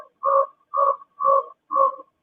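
A frog croaks four times at an even, unhurried pace. Each call is a short, clear, hollow croak, close and loud, with silence between calls and no other sounds.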